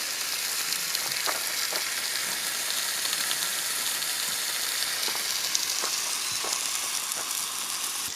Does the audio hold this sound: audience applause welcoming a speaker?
no